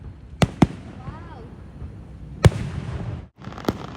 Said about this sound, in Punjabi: ਕਿੰਨੇ ਪਟਾਕੇ ਹੋਣਗੇ ਲਗਾਤਾਰ